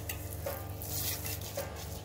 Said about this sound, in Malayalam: നമ്മൾ നേരത്തെ വറുത്ത വെച്ച അണ്ടിപ്പരിപ്പ് മുന്തിരിയും കൂടി ഇട്ടിട്ട് നന്നായിട്ട് ഇളക്കി എടുക്കാം.